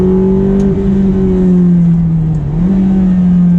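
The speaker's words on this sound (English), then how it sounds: "Now the downshift there was pretty decent" A Ferrari F430 engine revs hard from the driver's seat, a loud, sustained droning wail that dips briefly as quick downshifts blip the throttle, then climbs again, with no talking over it.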